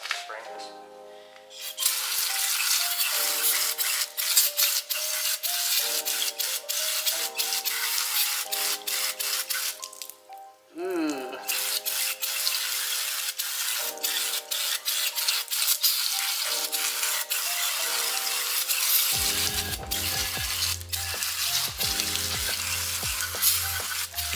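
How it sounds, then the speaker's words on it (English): Brake cleaner sprays and a brush scrubs the inside of a Honda K24A2 cylinder head, with harsh close-up rasping strokes and hissing bursts, and a brief pause midway. "So now we're gonna tip it up, brake clean it all out, clean it up nice."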